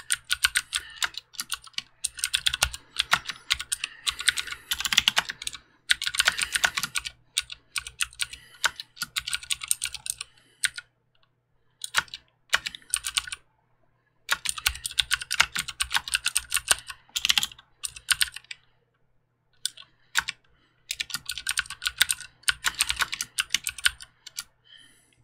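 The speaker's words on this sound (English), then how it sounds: "Let's just type something else." Typing on a Ducky One 2 Skyline mechanical keyboard, a steady run of close, crisp key clacks in bursts with short pauses between phrases, and no talking over it.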